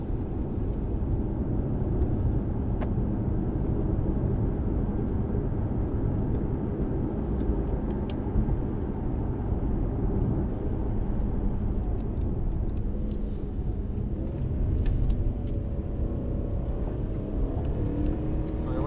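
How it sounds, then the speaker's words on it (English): 2007 Mercedes-Benz CL550 engine pulling under throttle while driving, a steady broad road and engine roar heard from inside the car, rising slightly in pitch toward the end. "When you get on the throttle and the torque comes on pretty quickly."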